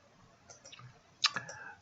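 A computer mouse gives a couple of sharp, quiet clicks in close succession against a nearly silent room, with faint handling noise before them.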